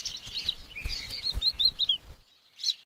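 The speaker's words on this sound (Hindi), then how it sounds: "माँ परिंदा उन्हें देखकर खुशी से चहचहा रही थी।" Sparrows chirping in quick high bright tweets, a lively run of short calls followed by a pause and one last chirp, clear and close.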